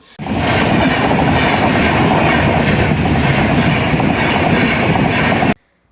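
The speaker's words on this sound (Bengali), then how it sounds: "ট্রেন যাচ্ছে, ট্রেনটা যাবে, তারপরে গেট খুলবে" A train rushes past at a railway level crossing, very loud and close, with a dense continuous rumble and rattling clickety-clack of wheels that cuts off abruptly near the end.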